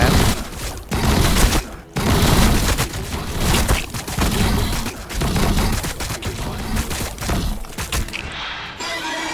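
Massed gunfire in the Warhammer 40000 Battlesector video game during a Tyranid versus Tau multiplayer battle: a dense, continuous barrage of loud shots and booms with brief dips, then cutting off abruptly at the end.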